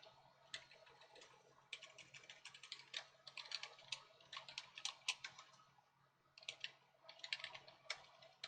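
Fingers type on a computer keyboard, a quiet, uneven patter of light key clicks that arrives in bursts with brief pauses between them.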